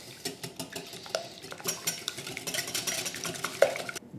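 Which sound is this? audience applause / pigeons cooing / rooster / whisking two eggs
whisking two eggs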